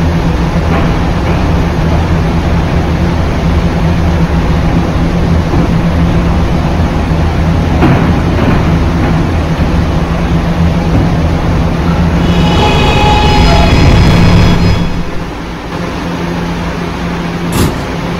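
A Roblox R211 subway train runs on the 5th Ave line toward Halson Terminal, with a steady rumbling drone and rolling noise, then a brief swell and a few tonal whines before the sound drops and settles near the end.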